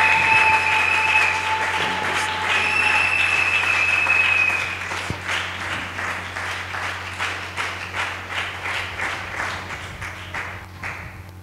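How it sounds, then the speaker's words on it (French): A church congregation at a Christian conference applauds loudly and continuously, the clapping later thinning into a more rhythmic beat. No one speaks over it. "nous acclamons le Seigneur."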